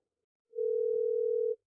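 A steady telephone dial tone sounds while a call is being placed. It is a single clean, continuous hum lasting about a second, heard alone and close.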